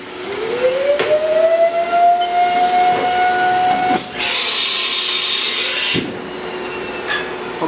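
An air turbine spindle spins up in a Haas CNC machine, a loud high whine rising in pitch then holding steady, broken by a few sharp clicks and bursts of hiss.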